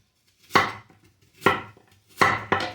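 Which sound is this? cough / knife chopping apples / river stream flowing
knife chopping apples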